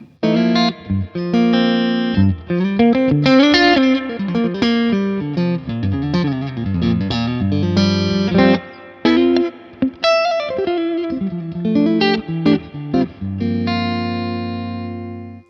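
Loud electric guitar chords and single notes from a PRS Sonzera 50 combo amp ring out, each swelling into a splashy, wobbly spring reverb tail.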